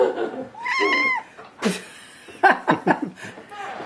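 A cat lets out drawn-out, wavering meows and a few short yowling cries nearby, mixed with human laughter and chuckling.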